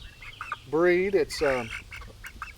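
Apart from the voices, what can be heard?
Delaware chicken hen clucking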